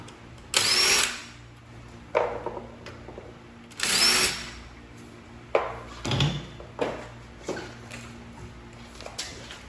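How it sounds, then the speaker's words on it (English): An impact wrench or power tool whirs in several short bursts while taking a wheel off a Fiat 500 Abarth with a 17mm socket, with clanks and metallic handling between the loud, close bursts. "the first step is we need to remove the wheel, and it takes a 17mm socket to remove."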